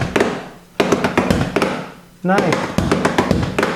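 Drumsticks strike homemade practice pads made from piles of books wrapped in yoga mat and a cushion standing in for a floor tom, giving fast, dull, closely miked taps and thumps in a steady pattern, with a brief spoken word in between.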